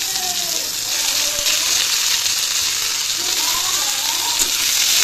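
Tomatoes sizzle in a hot pan while khichuri with Gobindobhog rice is being made, a continuous bright frying hiss with occasional soft stirring scrapes and no talk.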